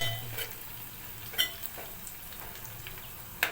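Curry leaves sizzle in hot oil while a fish curry is cooked, making a soft, steady crackle with a low hum beneath and a couple of brief utensil clicks.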